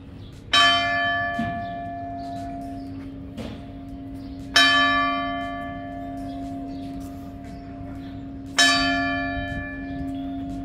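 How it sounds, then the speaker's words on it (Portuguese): A church bell in a Portuguese town strikes three times, evenly spaced about four seconds apart, each clear ringing tone decaying slowly, with faint street ambience between the strikes. "A igreja. Tocando o sininho."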